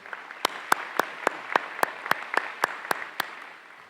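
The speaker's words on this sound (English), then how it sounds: "Yeah, if you want to clap, go ahead." Audience applause at a graduation ceremony, a run of sharp, evenly spaced claps at a steady rhythm, fairly close and moderately loud, with no talking over it.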